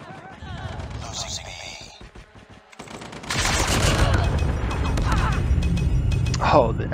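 Bursts of gunfire in Call of Duty Mobile, a short crackle early on, then a sustained loud stretch of rapid shots with sharp spikes near the end.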